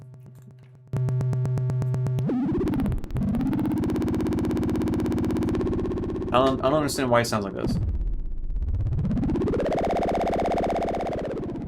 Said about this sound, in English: So it sounds like a crazy vibrato because we're wavefolding it a shit ton.